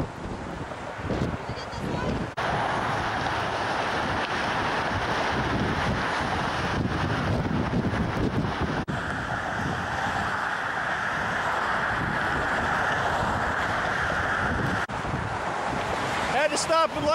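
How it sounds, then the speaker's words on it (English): Cold, gusty wind buffets the microphone on the Golden Gate Bridge, a steady roar with traffic rumble beneath and occasional voices. "It's cold and windy"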